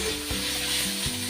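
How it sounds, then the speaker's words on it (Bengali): Boiled mustard greens sizzle steadily in a pan while being stirred to cook off the water, a close, continuous hiss with a few soft scrapes and knocks, with no talking. "সিদ্ধ হয়ে গেছে, একটুখানি নাড়াচাড়া করে পুরো জলটাকে মেরে দিতে হবে"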